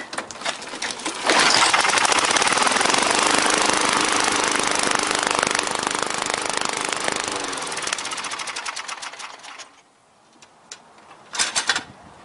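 Gasoline-fuelled lawn mower engine being cranked on a retry after a failed start: a loud, steady rapid clatter runs for about eight seconds, stops, then a short burst of clatter returns near the end.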